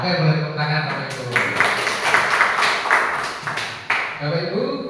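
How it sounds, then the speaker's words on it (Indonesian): An audience at a school positive-culture dissemination session claps together for a few seconds, a dense burst of hand claps rising between stretches of someone speaking into a microphone. "boleh tepuk tangan Bapak Ibu"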